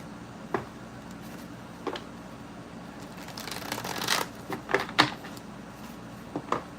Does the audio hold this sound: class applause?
no